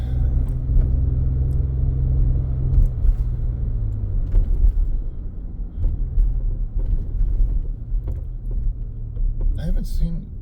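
An electric trolley bus climbs a steep San Francisco street, a steady low motor rumble and road noise running throughout with a few mechanical clunks and a brief squeal near the end.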